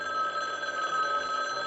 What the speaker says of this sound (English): I'm just one of those people who has to answer the phone.